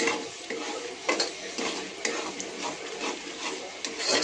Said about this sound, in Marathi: हे आपला मसाला चांगला परतून झालाय.